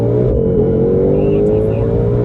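A 2020 Ford Mustang GT500 with a dual-clutch transmission revs at full throttle with the brake held, a loud steady engine roar rising gradually in pitch, heard close from inside the car, with a voice over it.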